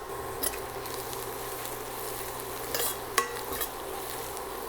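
Spoon stirring sautéed shallots and ginger in a pan, a soft continuous sizzle with faint scraping and a few light clinks, close and quiet with no talk.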